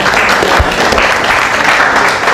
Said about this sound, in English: let's give Pet Malu a round of applause.